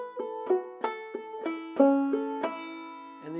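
Banjo playing a phrase of Bonaparte's Retreat: a series of bright plucked notes, some ringing and sliding, in a slow uneven rhythm, played alone and close.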